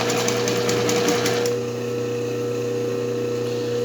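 A sewing machine runs steadily while stitching zigzag for richelieu cutwork embroidery, a close continuous motor hum that eases slightly partway through, with no talking.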